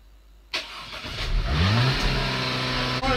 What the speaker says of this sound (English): you just keep revving your car